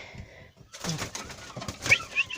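Pigeons cooing in a loft in the evening as rain begins, soft low coos close by with some rustling and faint wing movement, no talk.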